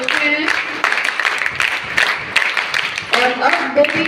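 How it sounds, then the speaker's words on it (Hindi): A crowd claps in scattered, uneven bursts for students at a one-day yoga camp, with a voice talking over much of the clapping. "एक बार इनके भी तालियां कि ये यहाँ की गतिविधियों से अपने आप को जोड़ चुके हैं"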